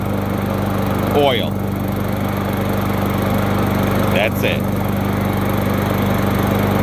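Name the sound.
lawn mower engine running after carburetor repair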